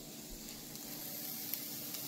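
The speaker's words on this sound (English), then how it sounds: "we are frying up this onion." Diced onion fries in a pot with a continuous soft sizzle and faint crackle, close and steady throughout the short stretch, no voices over it.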